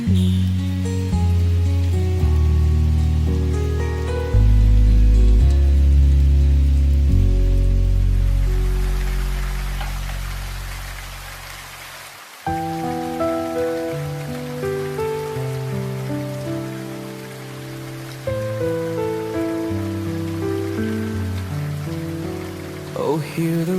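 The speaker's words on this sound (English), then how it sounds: "Oh, hear the raindrops soft and low." Soft, steady rain patters on a surface, a continuous gentle wash of drops under a layer of calm instrumental music that runs throughout.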